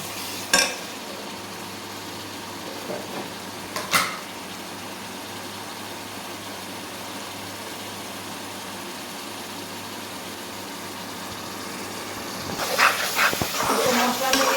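Spices sautéing in oil for a layer chicken curry give a steady, soft hiss. A few isolated clinks stand out, and busier scraping and stirring sounds come near the end.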